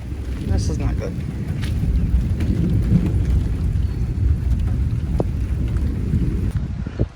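A thunderstorm with heavy wind buffeting the microphone, steady rain and low rumbling thunder, loud and continuous throughout.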